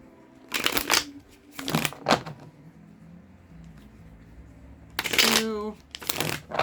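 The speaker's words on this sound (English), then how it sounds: "I cut the cards 3 times from right to left." Tarot cards shuffle and cut in several quick riffling bursts at close range, separated by brief pauses, while a voice speaks between the bursts.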